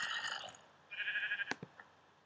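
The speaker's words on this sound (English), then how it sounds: "Those evil, evil sheep." Sheep in the Minecraft video game bleating, a couple of short nasal wavering calls close by, followed by a few soft clicks and thumps.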